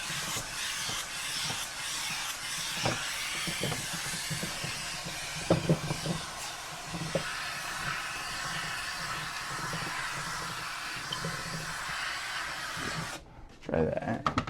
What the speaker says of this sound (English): Let's just give it a little bit of steam.